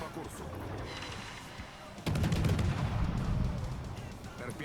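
Naval guns firing in World of Warships during a battle against a Schlieffen battleship: a dense barrage of loud booming gunfire with a sharp step up in intensity midway, over game music and voice-like chatter.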